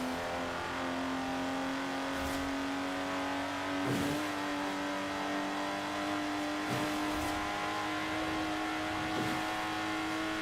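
Lotus Exige sports car engine in the racing game Forza Horizon 4, a steady sustained drone with a few brief rises and shifts as it drives, loud and alone with no talking.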